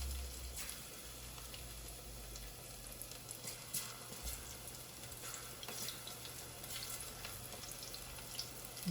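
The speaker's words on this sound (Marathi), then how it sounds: "भजे बनवती आहे" Onion bhaje fritters, battered with carom seeds, sesame, turmeric, salt and chili, frying in hot oil with a soft, continuous bubbling sizzle and scattered small pops, fairly quiet and close, no talking.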